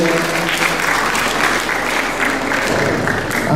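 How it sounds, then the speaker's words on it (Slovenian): Steady, dense applause from an audience at a school event in Celje, Slovenia, a full crowd clapping continuously throughout without a break. "En aplavz, prosim, tudi za prvo osnovno šolo Celje"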